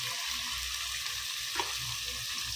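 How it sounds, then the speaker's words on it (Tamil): Water left from boiling goat legs pours into a pan of spicy mutton-leg curry, giving a steady sizzle and hiss as it hits the hot pan, continuous and close, with no talk. "கால் வேக வச்ச தண்ணி இருக்குது, அந்த தண்ணி ஊற்றி ஆட் பண்ணிக்கலாம்."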